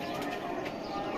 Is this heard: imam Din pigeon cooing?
yes